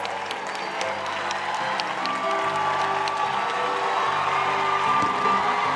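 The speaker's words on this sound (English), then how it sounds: "Let's all give them a round of applause." A theater audience at a Broadway awards show claps steadily in a sustained round of applause for contestants on stage, with scattered whoops over the dense patter.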